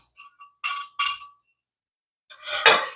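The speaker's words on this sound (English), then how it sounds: "I don't like using this whisk on this pan" A metal whisk clinks against a pan while sauce is stirred: a few light taps, then two bright clangs, a pause, and a longer scraping rattle near the end, close and clear with no talking.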